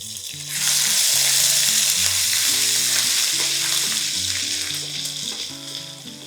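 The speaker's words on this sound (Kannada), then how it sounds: "ಇದೆರಡು ಒಂದು ಸೆಕೆಂಡ್ ಫ್ರೈ ಆಗಲಿ ಜಿಂಜರ್ ಗಾರ್ಲಿಕ್ ಪೇಸ್ಟ್ ಆ್ಯಡ್ ಮಾಡ್ತಾಯಿದ್ದೀನಿ" Kalonji seeds, kasuri methi and ginger garlic paste fry in hot oil with a loud, continuous sizzle and crackle, while a low rhythmic scraping of stirring runs underneath throughout.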